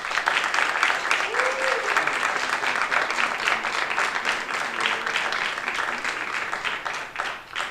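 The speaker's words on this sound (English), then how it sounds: "if you believe that the affirmative won this debate, that being Bruno, please clap now" A debate audience claps steadily for several seconds, a dense wash of applause that fades slightly at the end.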